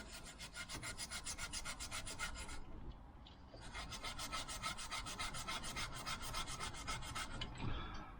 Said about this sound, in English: It'll probably come up beautifully. Bit of steel wool.